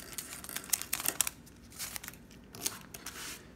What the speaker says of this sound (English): So I'm gonna tape this down.